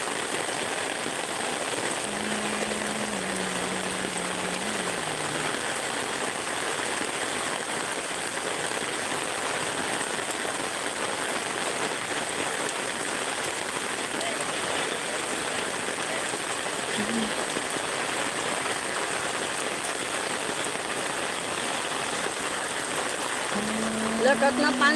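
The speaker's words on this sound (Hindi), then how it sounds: "बहुत पानी गिरा थे" Heavy rain pours steadily near a village river, a dense continuous hiss of drops on surfaces and water lasting throughout, with a few faint tonal sounds rising briefly underneath.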